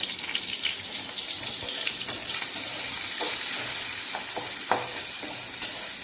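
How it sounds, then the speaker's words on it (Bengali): Pieces of boal fish fry in oil with a steady, dense sizzle and a few faint clinks, and no one speaks. "এদিকে যে বোয়াল মাছগুলো দেখো ভেজে ভেজে রাখছে"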